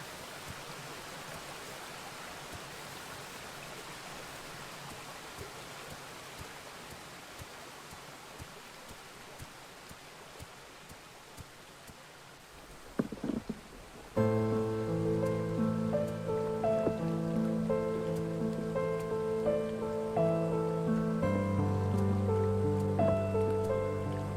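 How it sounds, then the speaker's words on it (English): Quiet, steady rushing of a waterfall in the video game Forgotten Hope, a soft continuous wash of water that is joined halfway through by gentle background music. "Feels like this beautiful waterfall holds some memories too."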